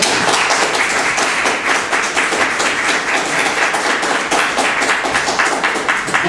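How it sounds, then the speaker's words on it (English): Sustained applause from an academic audience in a university lecture hall, dense steady clapping that holds at an even level throughout with no talk over it. "let's give them a round of applause"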